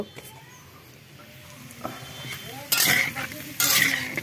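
Potatoes being fried in a pan, with a faint sizzle at first, then two loud bursts of spatula scraping and clattering against the pan.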